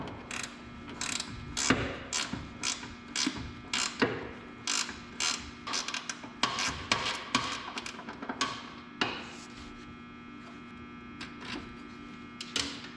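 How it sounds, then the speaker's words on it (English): A wrench fitted with a cheater bar works a stuck bolt loose during suspension work on a lock washer and eccentric, giving a long run of sharp, close ratcheting clicks and metallic clanks in irregular bursts over a steady low hum. "We're gonna put the forbidden cheater wrench on it. It's all about leverage."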